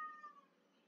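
A cat meows once, short and faint, in a quiet room.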